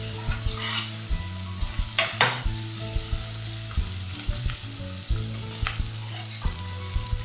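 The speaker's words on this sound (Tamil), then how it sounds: "இப்போ பாதி வெங்காயம் வதங்கிடுச்சு" Onions sizzling and frying steadily in hot oil for a prawn curry, with occasional stirring scrapes and clinks of a utensil against the pan close by.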